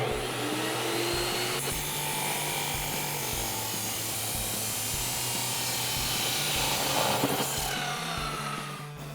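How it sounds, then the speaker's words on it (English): A power saw cuts through a clamped stainless steel exhaust pipe for a Toyota Tacoma, producing a steady, loud grinding whine with a rough metallic rasp, sustained throughout with no talking. "So now that we're over at the saw, I've got our pipe all lined up, clamped into position, and then we can bring it down and make our cut."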